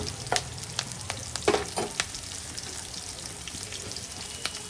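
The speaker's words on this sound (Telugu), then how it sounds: "ఇందులోకి రెండు పచ్చిమిర్చి ఎండుమిర్చి నాలుగు ఈ ఆనియన్స్ మొత్తం ఇలా దోరగా వేయించుకోవాలి" Green chilies, dried chilies and onions fry in a pan, a continuous sizzle broken by frequent scraping, clinking strokes of a stirring utensil, close and fairly loud.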